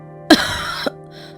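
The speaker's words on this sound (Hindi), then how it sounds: "पिताजी, माँ को बुरी तरह से खांसी हो रही है।" A cartoon woman gives one harsh, raspy cough with a short throat-clearing catch at its end, close and loud, followed by faint background tones.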